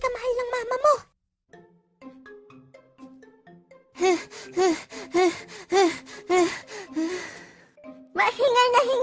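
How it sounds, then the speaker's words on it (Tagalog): A person pants heavily and rhythmically, out of breath, with loud rapid gasping breaths in bursts broken by quieter pauses and a little background sound. "Mahingal na hingal ka."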